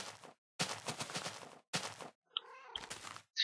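Ocelot cats meowing in Minecraft, several short bright meow calls spread through the clip, alternating with brief gaps of near silence and a few small clicks.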